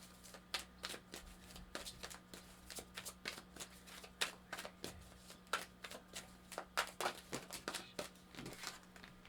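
Tarot cards being shuffled by hand in a series of quick papery riffles and slaps, close and fairly loud, with a steady low hum underneath and no talking.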